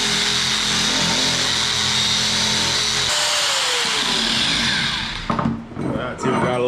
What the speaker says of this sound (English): This is just a Harbor Freight surfacer. I use it on everything.